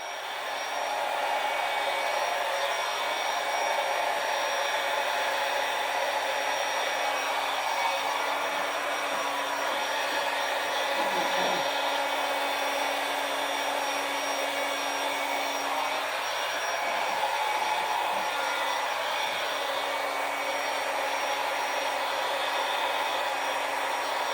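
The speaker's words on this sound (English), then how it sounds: "I almost dropped my dryer." A hair dryer blows steadily and continuously for the whole span during an acrylic Dutch-style paint pour on a square canvas, giving a loud, even whirring hiss with no talk.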